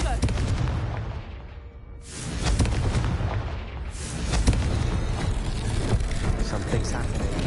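Heavy blasts from a Confringo spell in a Harry Potter-style game, with a deep rumbling explosion near two seconds and another surge near four, booming loudly over a continuous roar, while a voice speaks underneath.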